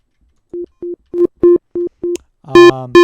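A synth note repeats in short, evenly spaced pulses in FL Studio, then the last notes turn thicker and buzzier with a gritty edge from a Wave Shaper distortion plugin.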